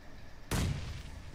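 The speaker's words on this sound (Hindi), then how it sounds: "रोमियो का अच्छा ग्रेनेड" A grenade in PUBG Mobile goes off with a single sudden loud boom over a low game background, then a short rumbling tail that fades quickly.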